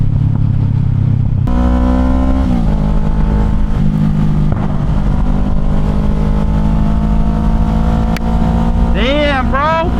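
A motorcycle ridden at speed with a steady loud engine drone and wind roar throughout, the pitch shifting as the rider changes gears, a brief burst of revving near the end, and someone talking over it.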